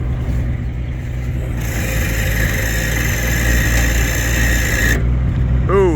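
A truck engine labours under heavy load while trying to lift a trailer, a loud steady low drone with a higher strained whine that holds for a few seconds and then drops away, and a voice briefly speaks at the end.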